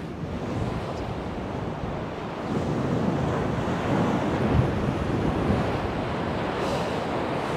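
Rough sea at night roars onto the shingle of a fishing beach, a continuous heavy wash of breaking surf mixed with wind buffeting the microphone, swelling slightly midway and without voices.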